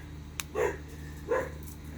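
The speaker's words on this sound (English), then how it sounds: "Dog barking because another dog is barking." A dog gives two short, muffled barks at a moderate distance, spaced about half a second apart, over a steady low background hum.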